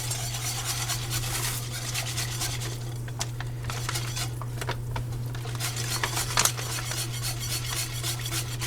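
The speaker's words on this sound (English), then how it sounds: "whisk it in" A whisk rattling and scraping quickly in a pot of ham and cheesy potato soup, a continuous busy patter of metal strokes with a few sharper clinks, close and steady over a low hum; no talking.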